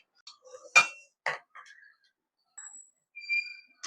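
Bottle gourd kofta balls are lifted out of a cooled pressure cooker with a few sharp metallic clinks and scrapes of utensil against the pot, spaced out with short pauses between them.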